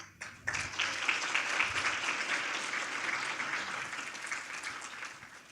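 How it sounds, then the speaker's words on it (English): Sustained round of applause from the audience at a jazz-themed fundraiser gala, starting abruptly after a short pause and holding steady and full before easing slightly toward the end. "Can you give a big round of applause for that video that they put together?"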